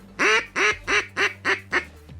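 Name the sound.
duck call imitating a mallard quack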